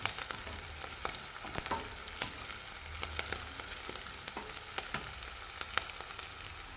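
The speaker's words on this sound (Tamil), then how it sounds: "வெங்காயம் நல்லா வதங்கிடுச்சுங்க" Small onions sautéing in a pan, a continuous close crackling sizzle with frequent clicks and scrapes of stirring throughout, no talking.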